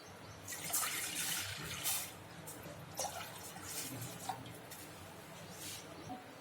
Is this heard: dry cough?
no